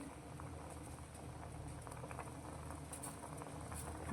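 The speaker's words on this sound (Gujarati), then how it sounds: "પર આ રીતે ઉભરો આવવા લાગે છે તો ગેસની ફ્લેમ આપણે અત્યારે થોડી મીડિયમ કરી દઈશું" Rice bubbles in a pot on a gas stove, starting to foam over, with a steady close bubbling and popping simmer and no talk.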